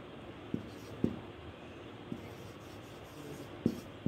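Chalk taps and scrapes on a classroom board as a teacher writes out a sentence analysis, with sharp knocks at irregular intervals over a low room hum.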